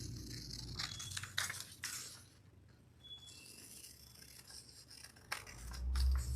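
Scissors snip through paper to cut out a bear shape for a children's craft: several close, crisp cuts in uneven bursts, separated by quieter rustling of the paper, with no talk.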